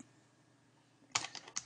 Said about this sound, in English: Just type that in with my little two-finger typing.